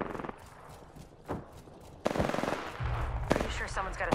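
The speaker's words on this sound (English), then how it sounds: "I am taking fire, friends." Automatic weapon fire in the Apex Legends shooter crackles in rapid bursts, with short volleys early on and a sustained, louder barrage through the second half, close and dominant with no speech.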